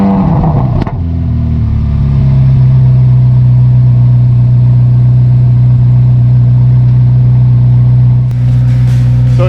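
A Chevrolet Corvette Z06 70th Anniversary edition engine cranks and fires with a sharp bark, then settles into a loud, steady, deep idle that holds close and unbroken, with a brief blip of revs near the end.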